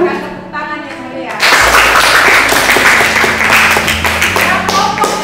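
A classroom group in Indonesia bursts into loud, dense applause for a student group after a presentation, with clapping and some voices continuing steadily after a short stretch of talk at the start.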